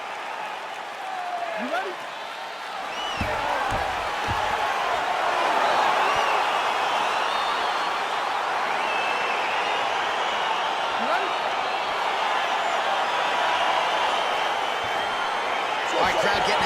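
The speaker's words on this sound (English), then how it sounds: "crowd getting excited as this fight gets underway" A stadium crowd roars steadily inside the UFC 4 fighting video game as a flyweight bout gets underway, a dense, sustained cheer that swells and holds while a commentator talks over it.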